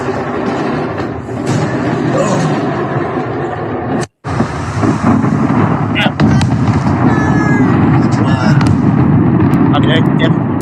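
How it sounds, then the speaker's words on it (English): A massive fireworks factory explosion unleashes a sustained, loud, broadband roar with crackling bursts, cutting out briefly partway through before the rumble resumes; voices can be heard within the din. "Here is a massive explosion from a fireworks factory."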